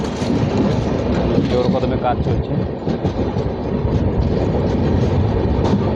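A passenger train running from Coochbehar toward Kolkata rolls into New Maynaguri station, giving a steady, loud rumble with rail clatter throughout, while a voice speaks briefly over the noise.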